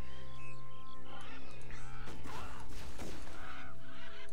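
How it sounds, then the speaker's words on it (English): Honking, goose-like bird calls from the Titan Quest action role-playing game ring out loudly over dense, layered game sounds, with several cries overlapping. "Oh look, the birds are here again."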